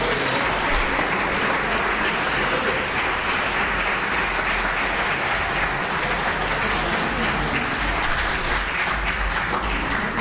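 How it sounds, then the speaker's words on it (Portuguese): A church congregation gives dense, continuous applause for Jesus during a Sunday school service, a loud, even roar of many hands clapping with no break and no clear voices. "Vocês podem aplaudir a Jesus?"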